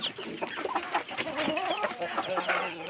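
Several free-range backyard chickens cluck close by in quick, overlapping bursts, a busy chatter of short calls throughout.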